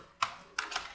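Code typed on a computer keyboard: two quick bursts of crisp, close key clatter separated by a short pause, with no voices.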